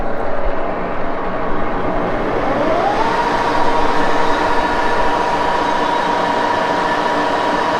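A lathe running in gear during taper turning, a loud steady mechanical drone with a rising whine that settles into a constant pitch, no talk.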